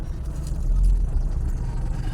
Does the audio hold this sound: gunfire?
no